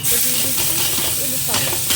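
Cumin seeds frying in about a teaspoon of oil give a loud, close, continuous sizzle and hiss, with light crackles running throughout.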